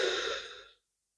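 A slow, deep breath during butterfly pose, one soft airy exhale that fades out quickly into silence.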